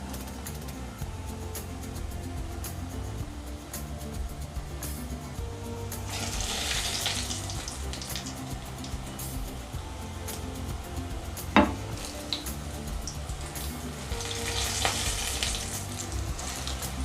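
Potato snacks dropped one by one into hot oil and frying, a steady dense sizzle throughout with a brief sharp pop near the middle; no talking.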